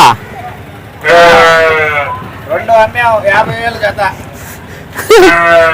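Several sheep bleat loudly nearby in repeated wavering calls at the Pileru sheep and goat market, with voices and a busy crowd murmuring in the background.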